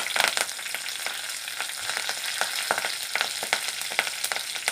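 Finely chopped curry leaves hit hot oil with cumin for a tomato dal rasam, giving a continuous close sizzle full of sharp popping crackles.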